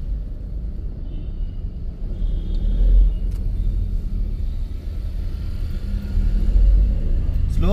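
A car drives along a road during a driving lesson, a steady low engine and tyre rumble swelling slightly midway and again near the end, with faint voices in the cabin.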